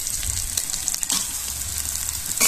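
Chopped prawns sizzle and crackle as they hit a pan of fried spice masala, a steady loud frying hiss with a few stirring bumps, close up and without talk.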